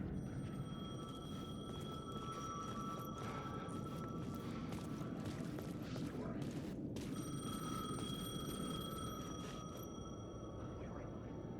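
In the video game Alan Wake 2, a telephone rings in repeated electronic bursts with a steady tone, broken by a brief pause, over a dense, rumbling noise bed.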